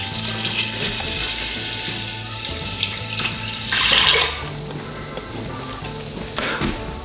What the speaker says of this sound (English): So now we pour in the chicken broth.